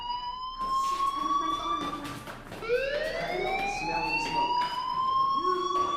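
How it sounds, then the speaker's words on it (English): A fire alarm blares in repeated rising electronic whoops, loud and close, with brief pauses between cycles and no talk over it. "Hey, do you hear that fire alarm?"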